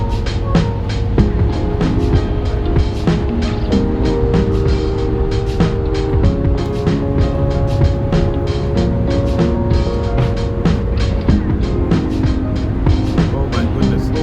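Inside a car cruising on a motorway at 70 mph toward Manchester, a steady loud road and engine drone runs throughout, with rhythmic clicking over it.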